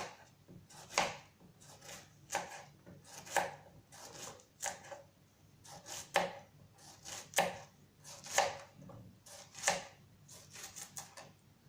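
Vegetables for a homemade vegetable pizza being sliced on a cutting board, a series of quiet, evenly spaced knife chops repeating about once a second.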